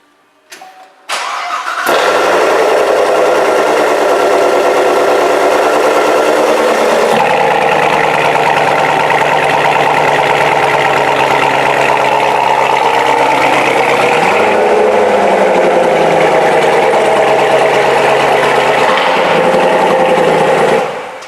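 A Corvette Z06 with a quad exhaust fires up and settles into a loud, close, steady idle, with a brief rev partway through and the engine cutting off at the end.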